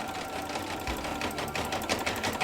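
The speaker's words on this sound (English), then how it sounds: "Put the hoop back in and stitch the final time around with the holes." An embroidery sewing machine stitches steadily around the hoop on a fabric quiet book page, its fast mechanical needle rhythm running continuously at moderate volume without speech.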